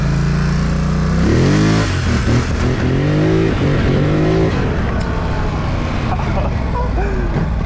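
A Polaris Scrambler 1000 ATV revs hard for a wheelie, its engine climbing through loud rising surges and dropping back, with a voice shouting over the noise toward the end.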